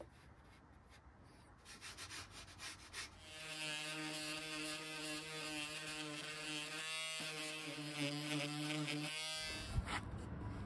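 Wood putty on the sides of a handmade travel guitar body is sanded with a power sander. Scratchy hand rubbing comes first, then a steady buzzing motor whine runs for several seconds, faint and close, with no talk.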